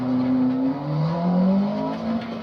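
Racing car engine in a driving video game played on a Logitech G920 wheel, a sustained, droning engine note that rises and shifts pitch as it revs through gears, steady and loud with no voices.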